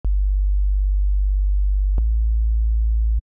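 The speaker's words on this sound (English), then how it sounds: "but this is actually a sine" A pure synthesizer sine-wave oscillator tone holds steady and loud at a low pitch, with soft clicks where it starts, briefly restarts about two seconds in, and cuts off.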